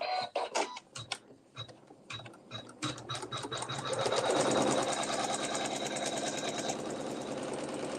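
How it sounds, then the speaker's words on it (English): A sewing machine stitches a tack-down line in water-soluble thread on a quilt block, starting with short stop-start bursts of needle chatter and then settling into a steady, close, continuous run. "using water-soluble thread still, you'll sew your tack down"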